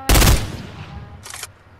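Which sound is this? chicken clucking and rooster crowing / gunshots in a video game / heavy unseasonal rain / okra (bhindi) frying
gunshots in a video game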